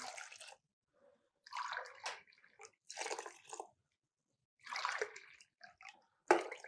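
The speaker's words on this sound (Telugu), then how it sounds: "మీకు దానికి 4 టైమ్స్ వాటర్ పోసుకోండి." Water is poured slowly over lentils in a pot to cook soft kichidi, about four times their volume, in several short gushing pours separated by pauses, close and fairly clear.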